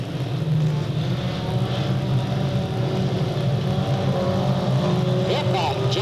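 Race cars at Delta Speedway roar steadily in the distance through a short-track race, one car trailing smoke, with an announcer talking over the continuous engine drone.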